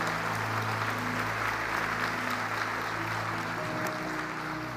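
Church congregation applauding together, a dense, sustained burst of clapping from a large crowd that continues steadily throughout, with faint voices mixed in.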